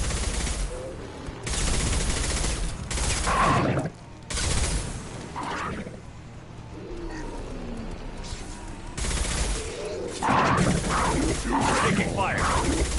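Bursts of gunfire from the video game Mass Effect 2 come in loud rapid volleys separated by short gaps, mixed with game voices and effects.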